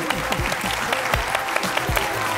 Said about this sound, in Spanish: el último aplauso para Adrián Díaz